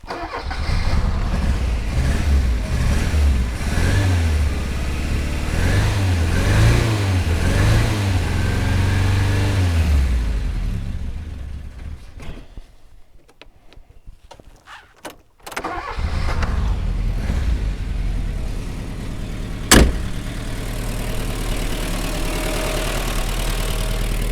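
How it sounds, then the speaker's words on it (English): A car engine with a carburetor problem runs with a rough, uneven idle while warming up, then briefly drops and sputters before picking back up with a sharp pop. "Carburetor, it's definitely carburetor, that noise."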